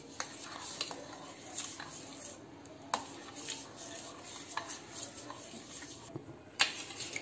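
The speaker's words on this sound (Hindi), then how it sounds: "और इसको मिक्स करते जाएंगे जिससे कि गर्म है ये तो अच्छे से मेल्ट हो जाएगा चॉकलेट चिप्स" Chocolate chips being stirred into hot custard, a faint, steady scraping with occasional light clinks of utensil against the pot over a low background hum.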